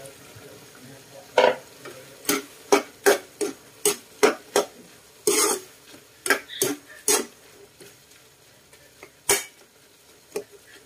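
Pork liver and other pork innards frying in a pan for Ilocano-style dinuguan, stirred with a utensil: a series of sharp clacks and scrapes against the pan in an uneven rhythm over a quiet background sizzle, close and without speech.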